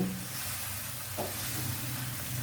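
Masala frying in a pan, a steady, close sizzle and hiss with a soft stir midway, no talking.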